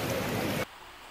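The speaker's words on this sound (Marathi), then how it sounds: "ढगफुटीमुळे पावसाने हाहाकार माजवलेला आहे।" Heavy monsoon downpour during a cloudburst flood in Sindhudurg, a dense, loud, steady roar of rain that cuts off abruptly about halfway through, leaving a faint low background.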